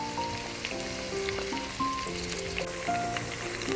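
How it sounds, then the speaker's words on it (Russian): Onions frying in oil for Tajik plov, cooking down toward a reddish-golden colour, give a steady, even sizzle throughout, with faint tonal sounds in the background. "и будем жарить еще где-то минут 9-10, чтобы вся лук наша стал такой красно-золотистый,"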